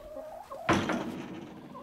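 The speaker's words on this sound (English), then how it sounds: "And I wanted to show you guys something about my chickens." A single hen clucks close by, a short burst of throaty clucking with a sharp onset, faint background sounds around it.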